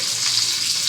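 Tempering spices frying in hot oil for a tomato curry, a steady close sizzle crackling without pause for a brief moment, loud and alone.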